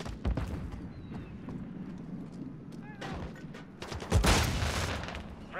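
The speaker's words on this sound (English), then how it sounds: "Stun grenade out!" Stun grenade and gunfire in the multiplayer video game Modern Warfare III, with a burst of sharp shots and a loud bang near the end over steady battle noise.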